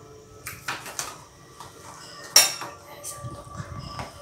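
Metal spoon scraping and clinking against dishes while scooping harissa during home cooking, a run of light clinks with one sharper knock near the middle, close and moderately quiet with no talk.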